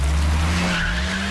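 A cartoon car's wheels spin and skid while stuck in mud, a loud sustained whine and squeal over a steady engine drone, close and continuous.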